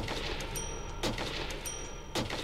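Two blasts of shotgun fire in Minecraft Zombiecraft, a call-of-duty-style zombie mode, each a sharp burst about a second apart over a steady busy game background.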